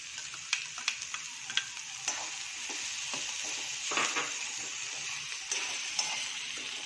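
Cabbage and potato hiss and sizzle steadily in hot oil, with occasional clicks and scrapes of stirring in the pan, close and fairly quiet.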